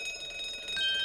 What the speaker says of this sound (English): Who appear to be an alarm bell.